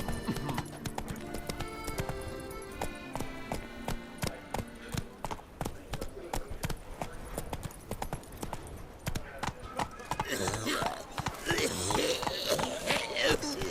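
Roach the horse gallops in The Witcher 3, with rapid rhythmic hoofbeats over game music, growing busier and louder near the end.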